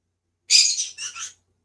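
A pet bird gives a single bright chirping call of about a second, broken into three quick bursts, close and clear against silence.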